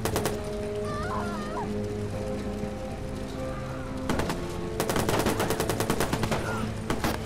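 Gunshots in the Watch Dogs video game on PS4: a steady background hum, then sharp bursts of rapid automatic fire about halfway through that grow into repeated loud volleys.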